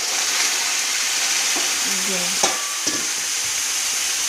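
Chopped bottle gourd tipped into hot oil with garlic and asafoetida in a home kitchen pan, giving a steady, fairly loud sizzle and fry hiss throughout, with brief stirring clatters near the middle.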